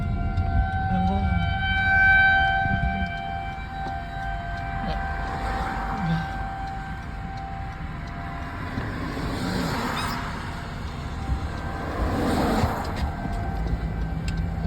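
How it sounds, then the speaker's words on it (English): A tornado civil defense siren wails outdoors, a steady, sustained tone rising and falling from a distance, with people talking nearby. "There's the siren up there, actually."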